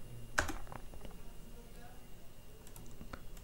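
Computer keyboard keys are pressed during a desktop publishing session, with one sharp click followed by a scattering of lighter, irregular taps, close and quiet against faint room noise.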